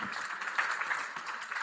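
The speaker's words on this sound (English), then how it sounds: "Round of applause." Audience applause at a youth debate event, a steady patter of clapping from the crowd running evenly through the moment, fairly distant and moderate in level with no talk over it.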